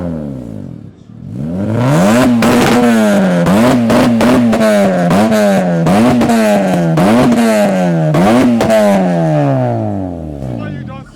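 Car engine revving at a car meet with loud exhaust; close, repeated throttle blips rise and fall in pitch over about ten seconds, with crowd voices in the background.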